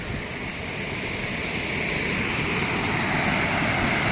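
Water rushes in a steady, loud, unbroken roar at a temple, like a strong flow pouring nearby.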